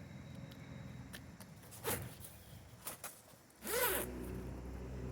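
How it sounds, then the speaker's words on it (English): A zipper is pulled along the fabric cab enclosure of an Arctic Cat Prowler Crew 800 side-by-side UTV, with a few short zips and then one longer, louder zip near the end, close up against steady background noise. "and then it'll zip up here."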